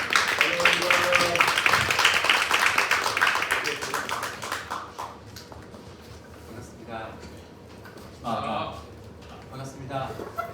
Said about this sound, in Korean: 이 시간 박수로 맞이하도록 하겠습니다.